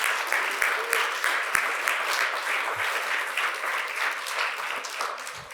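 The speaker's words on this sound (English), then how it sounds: "That deserves applause." Steady, dense audience applause at a closing lecture in New York, continuous clapping throughout with a few scattered louder claps, moderately close.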